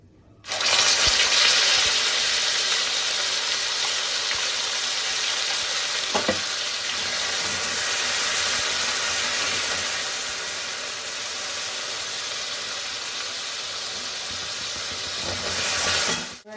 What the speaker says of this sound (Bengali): আর এখানে তেল গরম করতে দিয়েছি, ওই সাদা তেলে পনির ভেজেছি তো, সেই সাদা তেলেই করে ফেলবো। আর এই যে জিরে ফোড়ন দিয়েছি, আর এই যে একটু তেজপাতা দিলাম